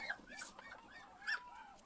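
A white Chinese goose gives a run of short nasal honks while being settled onto a basket of eggs, close by and fairly quiet, with a couple of louder calls.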